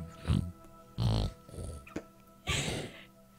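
A voice imitates loud snoring with a few drawn-out, rasping snorts, three or four separate close-up grunting breaths spaced about a second apart.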